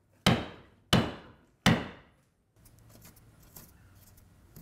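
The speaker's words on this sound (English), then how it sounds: "go over it again with your cork and iron and your mallet" A wooden mallet strikes a caulking iron three times at a steady pace, driving caulking cotton into a seam on a Herreshoff 14 boat under repair. Each blow is a sharp, close knock, followed by quieter shuffling and handling noise.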